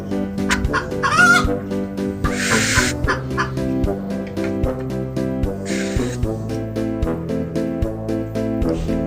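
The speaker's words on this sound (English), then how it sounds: "this is, wow, chicken. Wow, yellow chicken, very wonderful animal." A farm animal toy plays a chicken sound: loud repeated clucks and a crowing call over a looping electronic tune, with bursts of noisy chatter from the toy between them.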